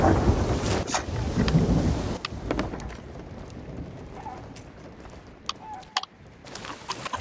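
A thunderstorm with heavy rain roars loudly at first, then eases to a steadier patter with a few sharp cracks and knocks close by, with no voices.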